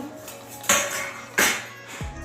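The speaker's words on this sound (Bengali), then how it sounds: "এবারে সিমটা ঢাকনা খুলছি" A lid comes off a pot of boiled flat beans on a home kitchen stove: two sharp, close metallic clanks a moment apart, then a softer knock over a quiet background.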